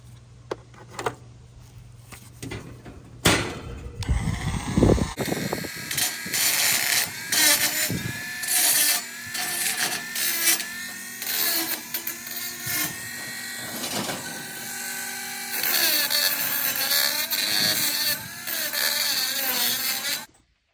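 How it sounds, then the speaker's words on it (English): Dremel rotary tool fitted with a cutting disc grinding down rough cut edges of wire closet shelves, a loud continuous high whine with shifting pitch and short breaks, close up and without talk. "now we're going to grind down the rough edges with a Dremel"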